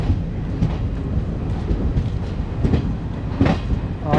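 Mumbai Garib Rath Express arriving at Bandra Terminus, with close, steady clickety-clack of wheels over rail joints and a continuous rumbling carriage noise throughout.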